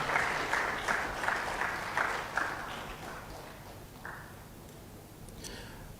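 An audience at a panel discussion on tournament hosting in Africa applauds to welcome a speaker; the faint clapping starts in bursts and fades out over several seconds.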